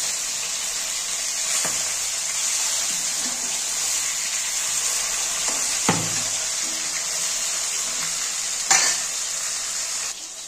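Katla fish sizzling in hot oil in a pan in a home kitchen. A continuous bright crackling hiss carries on throughout, with a few sharp clinks and scrapes of a utensil against the pan.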